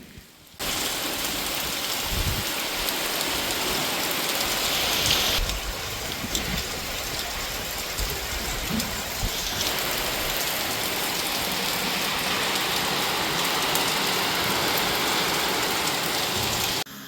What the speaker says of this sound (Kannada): ಮಳೆ ಜೋರಾಗಿ ಬರ್ತಿತ್ತಲ್ಲ ಅಂತ